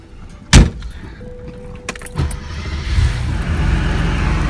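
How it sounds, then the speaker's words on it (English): A 1987 Porsche 911 Carrera Cabriolet's flat-six is started with the key: a sharp clack and some rattling, then the engine catches and settles into a steady, close idle that swells slightly and holds. "That flat 6 fires right to life."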